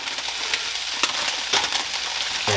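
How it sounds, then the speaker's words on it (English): Baby spinach from a 6-ounce bag sizzles as it wilts in a skillet with vegetables for a frittata, a steady close crackle with a few brief louder stirring scrapes. "I'm going to add a handful at a time to my skillet here, just to wilt it."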